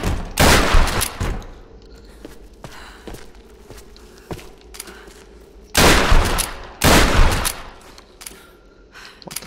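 Shotgun blasts in the Tomb Raider video game: several loud, sharp broadband bursts, a close one early and two heavy ones later, separated by quieter stretches with light tapping in between.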